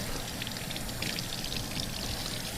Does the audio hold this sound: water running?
yes